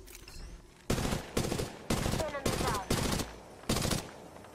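Video game gunfire comes in five or six loud, separate bursts of automatic fire spaced about a second apart, with quiet gaps between them and a faint background hum.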